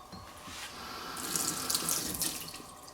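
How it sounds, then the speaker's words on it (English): Jalapeno seeds rinsed under a running kitchen tap, a steady close stream of water that grows louder and splashier midway as the pepper is held under the flow, with no talk. "And now I rinse the seeds out."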